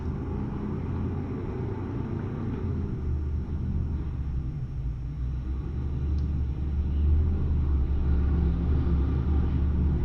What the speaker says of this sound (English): I don't know if it was because the trucks are noisy out there.